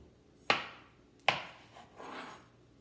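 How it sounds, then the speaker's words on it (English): Knife dicing tomatoes on a cutting board for homemade salsa: two sharp, close chops followed by a softer scraping stroke. "next you're going to go to your tomatoes. You want to start by dicing those"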